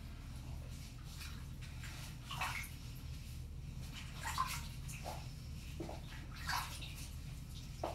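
A chicken being washed for a prolapse in soapy bath water with Epsom salt gives soft, steady water sloshing with a few gentle splashes, faint and close, with no talk.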